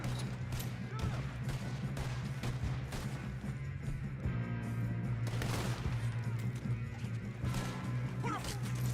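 Gunfire and crashing impacts in Red Dead Redemption 2, a dense run of shots over a steady low game rumble, with voices shouting throughout.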